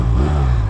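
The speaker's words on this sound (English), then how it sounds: "Revs it up, sounds pretty good." A Honda Rebel 250 motorcycle's simple single engine revs briefly up close, a loud low throbbing note rising and settling over a short burst.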